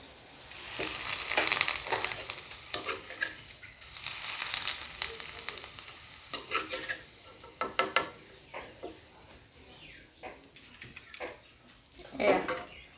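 Assamese pitha frying in oil in a pan, a soft close sizzle that swells and fades in bursts with light clinks, fairly quiet.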